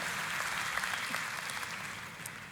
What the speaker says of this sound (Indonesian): Kita kasih tepuk tangannya pula yang paling meriah buat Tuhan kita.